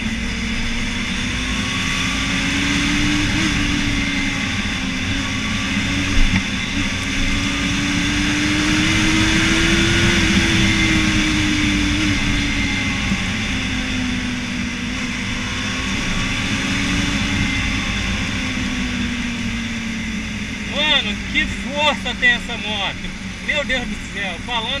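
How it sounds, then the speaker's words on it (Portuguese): A Honda Hornet motorcycle engine revs outside a Brazilian Army barracks, a loud sustained drone that rises and falls in pitch through a long throttle swell, with sharper crackling bursts near the end. "mais uma aceleradinha gostosa no Hornetão"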